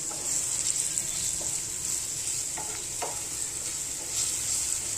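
Boiled bitter val beans frying in hot oil in a pan: a steady bright sizzle throughout, with a few soft stirring scrapes and clicks close by, no talking.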